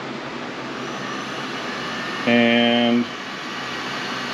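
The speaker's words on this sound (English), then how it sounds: "set up my heat gun like so" Heat gun blowing hot air onto adhesive on a gummy tire fitted with a bib mousse, a constant airy whoosh with a brief louder tonal whine in the middle, while someone speaks a word.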